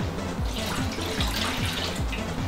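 Water from a tap runs steadily into a pot for glass candy in a home kitchen, a continuous close splashing stream with no talk.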